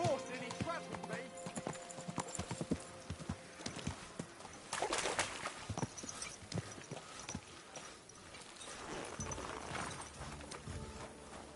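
Hooves clip-clop steadily on a hard surface in the video game Kingdom Come: Deliverance II, amid a busy background of clatter, with voices talking intermittently over the trotting.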